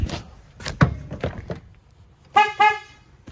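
An original truck horn on a 2008 Chevy Duramax, said to sound like a clown horn, gives two short, close honks after some clunks and knocks.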